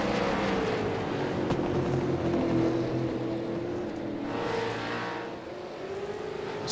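A train of four racing cars in the AOSC Super Series at Mid-Ohio drives through corners, a steady blend of engine drones rising and falling in pitch as they pass, fairly distant and continuous.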